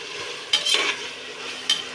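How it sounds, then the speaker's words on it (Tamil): Tomatoes and onions frying in a pan for a South Indian veg biryani, with a steady soft sizzle and two brief scraping stirs of a spoon against the pan. "இப்போ நல்லா கிண்டிக்கலாம்"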